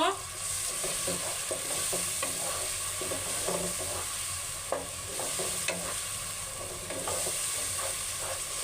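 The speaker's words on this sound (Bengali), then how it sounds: "এটা একটু ভাজতে থাকবো কিছুক্ষণ" Ginger-garlic paste ground with garam masala and cardamom fries steadily in a pan while a spoon stirs it, giving a continuous sizzle broken by repeated scraping clicks and taps.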